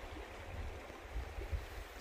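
The Maligne River flows past a lunch spot along the Great Divide Trail: a faint, steady wash of moving water with soft low rumbles and no voices.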